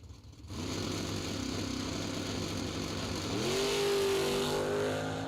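Drag racing engines of a Rambler wagon and an S10 at the staging line drone loudly and steadily. The pitch climbs and swells as one revs higher toward the end, with no voices over it.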